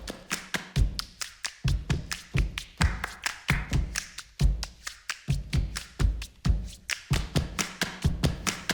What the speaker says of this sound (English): Can you just give us one more clap?